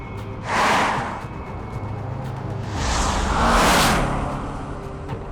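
A car accelerates hard after a stretch of roadworks, its engine rising in two loud surging waves over a constant rushing road noise, with no talking.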